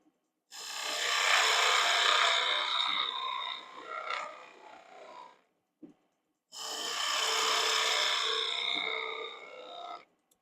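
A skew chisel makes slicing cuts on wood in two long, smooth rasping strokes, each lasting several seconds and separated by a short pause and a faint knock, close and fairly loud.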